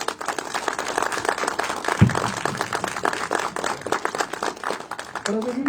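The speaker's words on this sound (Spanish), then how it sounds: "despedimos al maestro Alberto con un fuerte aplauso" A conference audience applauds a departing speaker, a scattered, moderate patter of clapping mixed with crowd chatter and talking throughout.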